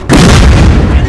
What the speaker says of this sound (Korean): 아까부터 대포 쏘던 아들은 야들입니다.